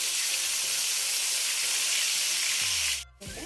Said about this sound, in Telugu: చక్కగా మంచి బ్రౌన్ కలర్ వచ్చేంత వరకు ఫ్రై చేసుకోవాలి.